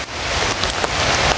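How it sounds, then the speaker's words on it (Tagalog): Heavy rain pours down close by, a loud, dense and continuous patter with occasional sharper drops striking a surface. "Kasi nabutan na kaming ulan."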